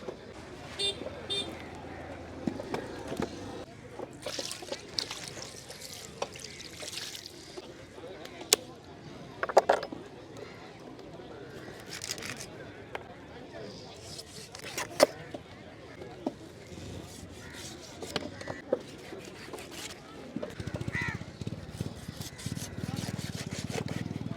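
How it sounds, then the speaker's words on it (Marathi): An eight-kilogram fish is cut up, with rough scraping and sawing strokes and a few sharper chops repeating through the clip while voices talk nearby. "आठ किलोचा मासा आहे दे कापून मला"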